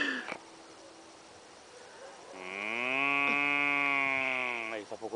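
Cattle mooing loudly nearby, one long drawn-out bellowing moo rising and holding for over two seconds, with faint background noise and brief rustles before and after.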